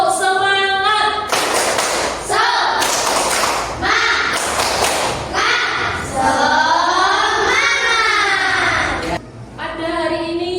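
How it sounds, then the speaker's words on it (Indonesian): A classroom group claps out the rhythmic tepuk semangat routine, loud sharp bursts of hand claps in a patterned beat alternating with children's chanting voices and a teacher's speech. "Tepuk semangat."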